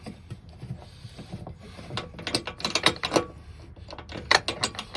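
Mechanical ratcheting and clicking of a front passenger car seat bolt mechanism being unwound by hand, a run of close, loud, irregular ratchet clicks and gear rattles that grow denser midway.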